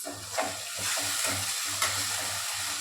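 Loud, steady sizzling of a ground chili and cumin paste frying in hot oil, with rhythmic scraping strokes of a spoon stirring through it.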